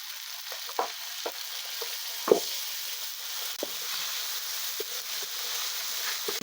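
Cumin paste frying in hot oil with a little sugar for a vegetarian raw-banana dhoka dish, giving a steady soft sizzle with a few sharp spatula taps and scrapes, fairly quiet and with no voices.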